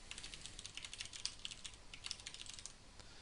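Fingers tap on a computer keyboard in quick irregular bursts of clicks, close and fairly quiet, with no talking over them.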